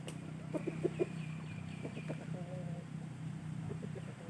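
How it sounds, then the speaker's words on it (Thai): Hens cluck in short, soft bursts at a moderate distance, with a steady low hum running underneath throughout. "ก็มีแม่ไก่ที่ซื้อเข้ามามั่ง ก็มีอยู่สองสามตัวนะครับ"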